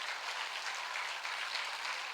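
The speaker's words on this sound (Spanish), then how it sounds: "Si ese aplauso es para Cristo, podemos dárselo con más fuerza." A church congregation applauds during a worship service, a soft, even, continuous patter of many hands heard from a distance, with no voices standing out.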